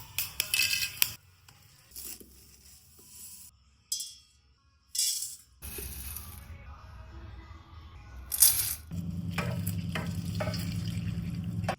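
Urad dal frying in cold-pressed kachchi ghani mustard oil, heard as bursts of sizzling and stirring scrapes broken by quiet gaps, then settling into a steadier close sizzle near the end.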